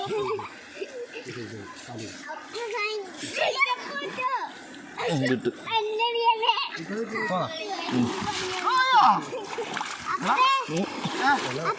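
Children shriek, laugh and chatter as cold water from the fridge is poured over them, with splashes breaking in repeatedly across twelve busy seconds.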